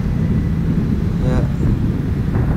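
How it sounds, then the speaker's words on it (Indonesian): A motorcycle rides at normal speed through busy traffic on roads toward Pasar Ciputat, a steady low rumble with wind buffeting the microphone throughout, no pauses, and a brief rising whine from passing traffic midway. "Ini saya jalan pakai motor dengan kecepatan normal-normal aja."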